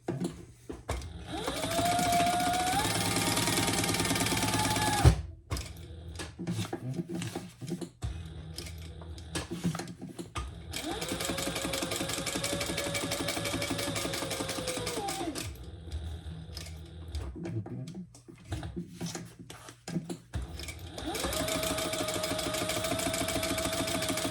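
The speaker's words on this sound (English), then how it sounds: "Now we're gonna top stitch." A sewing machine top stitches a phone pouch in three steady runs of rapid needle chatter with a faint motor whine, broken by short pauses of handling noise between passes.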